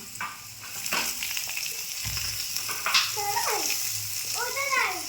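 Potatoes frying in hot oil with five-spice (panch phoron), turmeric and bay leaf, a steady sizzle with stirring clatter, while a voice and other speech come and go over it.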